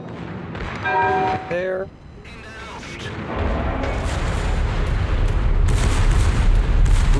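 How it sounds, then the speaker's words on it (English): Heavy naval gunfire in a warship video game, with the Bismarck among the ships, rumbling and booming continuously in the second half after brief talk, a dense, loud barrage of overlapping shots. "You can see all the guns going off."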